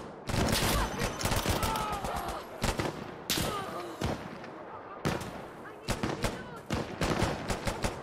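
Gunfire in the video game Insurgency: Sandstorm, loud bursts and rapid volleys of shots cracking one after another over several seconds, with a player's voice talking between them.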